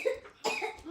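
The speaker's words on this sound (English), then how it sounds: "She's got a little bit of a cough." A child coughs nearby in a short burst of two or three rough, breathy coughs, with a brief pause between them, in an indoor setting during a jewelry unboxing.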